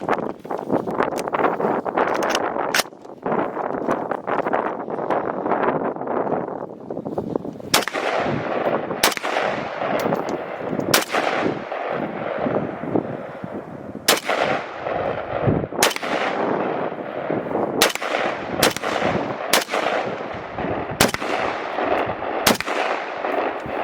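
A Galil ARM rifle fires at an outdoor shooting range, loud sharp reports spaced a second or two apart, about a dozen shots, over a steady wind rumble on the microphone.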